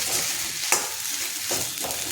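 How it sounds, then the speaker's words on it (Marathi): Soaked sabudana with salt is stirred in a dark kadai, giving a dense frying hiss with a few scraping strokes and a sharp clack near the start, close and without talking. "मीठ टाकून झाल्यानंतर त्याला हे चांगलं साबुदाण्यामध्ये मिक्स करून घ्यायचं"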